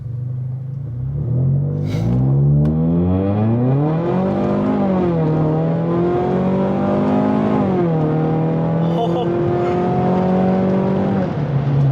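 A Ford Mustang on new drag wheels accelerates hard down a street, its loud close engine rising in pitch through several gear changes with a steady rumbling roar.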